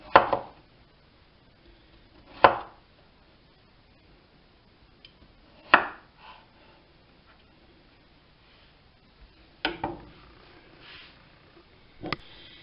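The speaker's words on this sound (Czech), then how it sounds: "oloupané brambory si nakrájím na zhruba tak půl centimetrové" A knife slices peeled potatoes into slices about half a centimetre thick. About five crisp, separate chops hit a cutting board at an irregular pace, close and fairly quiet, with near silence between them.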